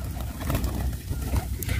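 Pigeons at a pigeon keeper's loft in Layyah coo in low, soft bursts that run continuously, close by, over a busy background of rustling and faint noise.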